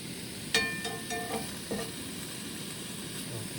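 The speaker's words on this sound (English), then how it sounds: "then you just gently stir it around" Browning meat is stirred in sauce in a camp pan outdoors, giving a steady low sizzle with a few soft scraping strokes of the spoon, close and alone with no talk.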